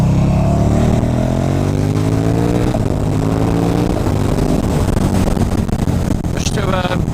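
KTM Superduke R motorcycle engine droning loudly, rising and falling in pitch as it runs up and down through the gears, with wind rush throughout.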